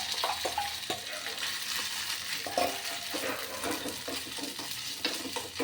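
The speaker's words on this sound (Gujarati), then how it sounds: "તો આપણું તેલ સરસ ગરમ થઈ ગયું છે, એટલે પહેલાં એમાં બટાકા નાખી દઈએ।" Potatoes fry in hot oil in a pan, a steady close sizzle broken by intermittent stirring scrapes and soft clatter.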